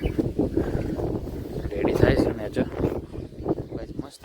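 Wind gusts across an open rooftop terrace, heard as a steady low rumble and buffeting on the microphone beneath continuous close conversation.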